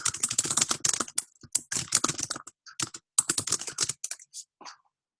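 Rapid typing on a computer keyboard, dense bursts of crisp close key clicks broken by short pauses, fading out toward the end.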